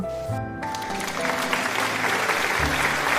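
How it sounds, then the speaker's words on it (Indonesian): Classroom applause for a group presentation on parallel circuits, a short burst of clapping from a small group with some voices mixed in. "silakan memberikan aplaus untuk kelompok 2 Agung"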